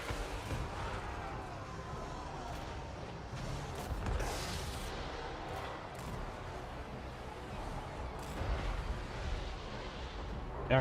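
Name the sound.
artillery shooting at a castle in a video game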